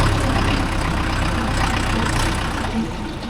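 A Mahindra Yuvo Tech Plus 585 DI 4D tractor hitched to a 9-tine cultivator idles nearby, a loud, steady, rough diesel rumble that holds throughout and eases slightly near the end.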